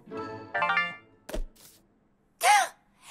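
A short phone notification tone chimes as a bright melodic burst, followed by a soft thunk and a later sighing swell, in an animated children's cartoon scene.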